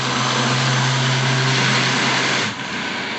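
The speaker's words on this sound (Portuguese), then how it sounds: "Batidinha para misturar o fermento." A blender briefly whirs through savory pie batter with yeast, a steady loud motor drone that cuts off near the end, leaving a quieter hum.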